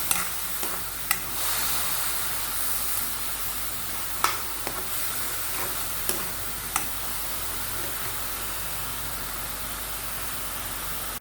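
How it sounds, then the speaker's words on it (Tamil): Onion paste sautés in a pan with a dense, even sizzle that runs throughout, broken only by a few faint clicks of a spatula, close up with no talking. "இப்போ இந்த வெங்காயம் எல்லாம் கொஞ்சம் நல்லா வதங்கட்டும்."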